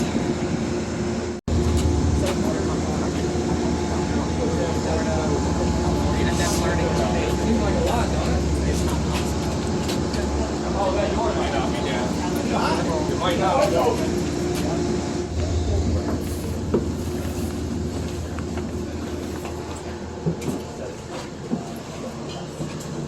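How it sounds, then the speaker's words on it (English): A passenger train stands at a station for boarding, its engine or motors giving a steady low hum with rumbling and clanks, while someone talks nearby. "the train has pulled up here"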